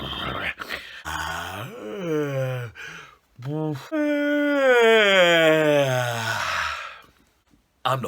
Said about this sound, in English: With a very great stretch and a great big yawn.